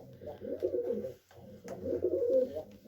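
Miski pigeons coo inside a coop in two drawn-out, throaty bursts separated by a short pause, heard close and fairly soft, with no voices.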